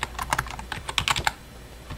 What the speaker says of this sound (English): the next thing I want to do is I want to type in